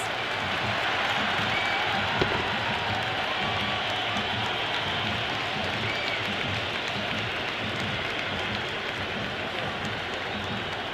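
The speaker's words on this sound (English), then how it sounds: "The spectators are absolutely buzzing right now." Stadium crowd at an IPL cricket match between RCB and CSK roaring and cheering after a big hit into the stands, a loud sustained wash of many voices filling the whole stretch.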